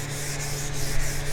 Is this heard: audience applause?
no